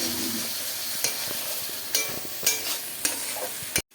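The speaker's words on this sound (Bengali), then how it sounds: "এরপর দেবো জিরে বাটা ভালো করে আমরা নাড়িয়ে দেবো মশলাটা" Cumin paste and spices sizzle in a frying pan while being stirred, with several sharp spatula scrapes over a steady hiss, followed by a sudden drop to silence.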